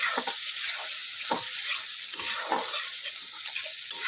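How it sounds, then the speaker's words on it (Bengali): Fish being sautéed with whole spices in a pan, with a steady bright sizzle and soft scraping stir strokes that recur unevenly throughout, close and alone with no voices. "এবার এটাকে একটু আমি মাছগুলো দিয়ে একটু কষিয়ে নিচ্ছি"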